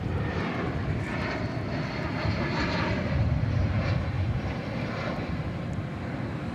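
American Airlines jet in Allegheny retro livery arriving at DFW Airport at night, a steady, loud broadband engine roar that swells slightly midway and holds without a break.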